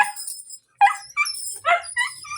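A puppy gives short, close barks and high whimpering yips in quick bursts separated by brief pauses.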